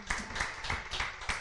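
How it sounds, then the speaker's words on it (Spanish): Rhythmic clapping from a church congregation, about five evenly spaced claps in unison, fairly faint and distant. "Dele un aplauso al Rey de Gloria."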